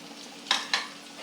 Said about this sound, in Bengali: কড়াইতে তেল পেঁয়াজটা দিয়ে দিলাম।